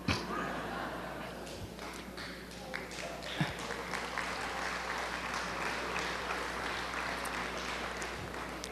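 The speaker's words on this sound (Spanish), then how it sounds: "no aplaudan prematuramente, esperen, el aplauso hay que reservarlo" A forum audience breaks into steady applause that runs throughout, with a few louder thumps near the start and scattered voices over the clapping.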